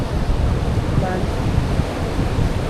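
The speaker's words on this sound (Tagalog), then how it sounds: "Lakas pa rin ang hangin. No? At maalon" Strong wind buffets the microphone over a steady roar of rough surf at a beach, loud and continuous throughout.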